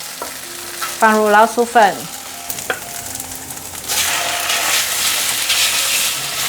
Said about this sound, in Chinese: 这时候放入红萝卜， 红萝卜略炒一下